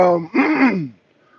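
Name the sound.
throat clearing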